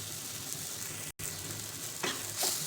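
Asafoetida, turmeric and red chilli powder sizzling in hot oil with fried ginger-garlic paste in a pan, a steady close crackle broken by a brief silence, then stirring and louder spitting bursts near the end.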